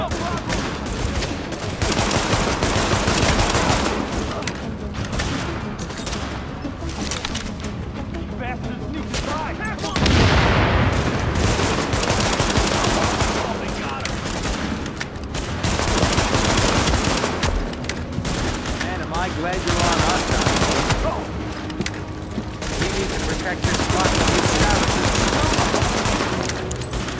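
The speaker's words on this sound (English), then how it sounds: "Shoot them out of there!" Dense, rapid gunfire from the video game The Division, with machine-gun bursts and volleys rolling almost continuously throughout. Brief voices mix in under the shooting.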